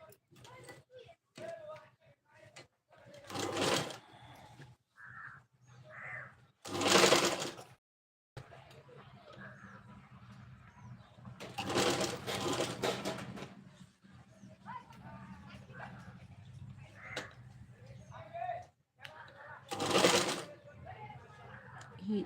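A sewing machine stitching a sleeve runs in several short, loud whirring bursts close by, separated by pauses, while someone talks quietly between and around the runs.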